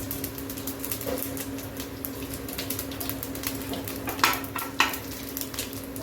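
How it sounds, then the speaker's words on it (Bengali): Panch phoron whole spices frying in hot oil in a pan where peanuts were just fried, a steady close crackling sizzle with a couple of sharper spits and light stirring clinks near the end. "আমি এর মধ্যে এখন পাঁচফোড়ন দেব"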